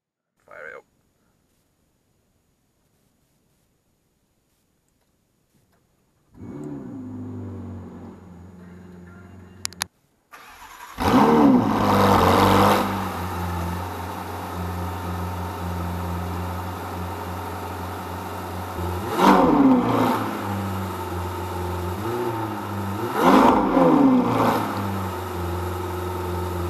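A Ferrari 488 GTB with a 3.9 litre twin turbo V8 cranks and catches, then settles into a loud, close idle broken by two sharp revs.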